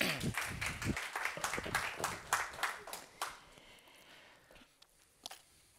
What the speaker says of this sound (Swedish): Tack så mycket, en applåd.